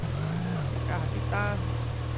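A car's engine drones steadily while driving in the video game GTA San Andreas, a low continuous hum with a slight pitch dip early on and faint higher whines above it.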